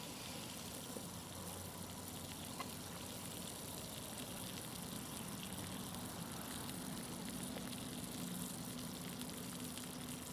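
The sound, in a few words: water at a rolling boil on a Zelph Venom Super Stove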